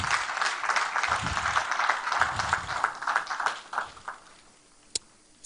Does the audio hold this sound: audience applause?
yes